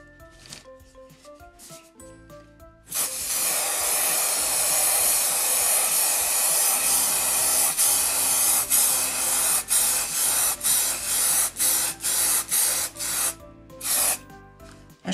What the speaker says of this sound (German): ich habe das mit Haarspray eingesprüht